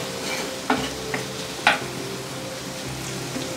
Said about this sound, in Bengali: একটু সামান্য হালকা করে ভেজে নিচ্ছি।